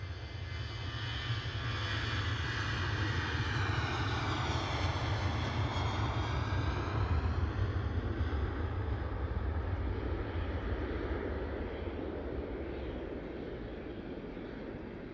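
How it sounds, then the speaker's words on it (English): Airliners at Edinburgh Airport, a Jet2 and a Ryanair jet, rumble steadily with a loud, sustained engine roar and low-frequency drone as they track out for departure, with a rising and falling whine across the run. "Tracking out for departure is that Ryanair off to Dublin"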